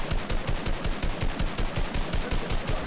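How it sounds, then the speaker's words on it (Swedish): Rapid automatic gunfire in the video game Fortnite, loud dense bursts of shots in a fast steady rhythm filling the whole stretch, with no talking. "Alltså jag missar varenda skott."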